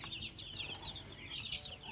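Bantam chicks peeping on a farm, a quiet run of high, rapid chirps that repeat irregularly and sometimes overlap, with soft low rustling underneath.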